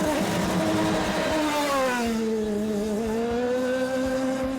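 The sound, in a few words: race car driving on the Toronto circuit during practice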